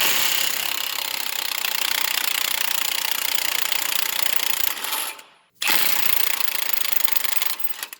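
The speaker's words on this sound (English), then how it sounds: "the Milwaukee will be able to shear that cotter pin right off" A Milwaukee impact wrench shears off a cotter pin on a Dodge Ram 4x4 wheel hub, a loud continuous rattling hammer that cuts out briefly, then resumes in a short burst before stopping.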